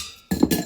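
An ice cube drops into a cocktail glass with a single quick, soft clink, close and alone.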